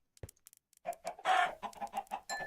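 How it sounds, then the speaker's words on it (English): Chickens cluck in the video game Minecraft, a run of short, close, moderately loud clucks following a few faint clicks at the start. "Chickens, chickens, chickens."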